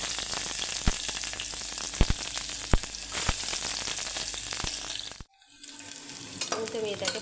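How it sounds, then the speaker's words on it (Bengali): Onions frying in hot oil with mustard seeds are stirred in a pan, giving a steady loud sizzle with sharp utensil scrapes, then the hiss suddenly drops away before softer sizzling resumes. "আমি এটাকে ভালো করে নাড়িয়ে নেব"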